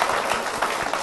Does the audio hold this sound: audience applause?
yes